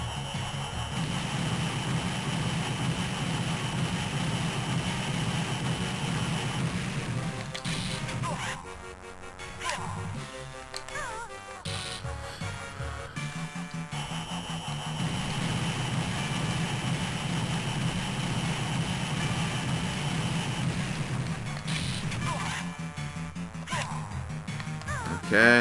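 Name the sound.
bomber aircraft engine in Banjo-Kazooie: Grunty's Revenge video game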